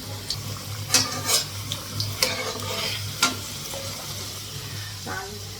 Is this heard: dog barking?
no